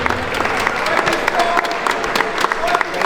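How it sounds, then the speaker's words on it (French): Audience at a street-lifting competition applauding, a dense steady clapping crowd close by, with a voice speaking over it. "on peut applaudir"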